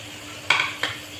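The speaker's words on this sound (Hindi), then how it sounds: "अब ये हम आधा किलो के करीब इसमें मटर शामिल कर देंगे।" Peas tipped into keema frying in a pan, two quick bursts of sizzle and clatter against a low background hiss.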